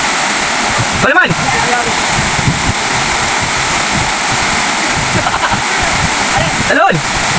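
A waterfall roars as a steady broadband wash of falling water throughout, with short splashy bursts near the start and end and voices talking over it.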